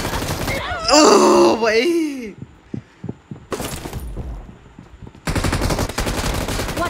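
Video game gunfire in bursts of rapid shots with sharp cracks, loud and close, alternating with quieter gaps, while players talk and exclaim excitedly over it.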